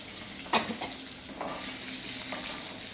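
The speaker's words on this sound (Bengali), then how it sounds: "বুঝেছো, মাছটা ভাজা হচ্ছে" Fish frying in a pan in a home kitchen, a soft steady sizzle running throughout with a few brief louder crackles and stirring clinks, close and fairly quiet.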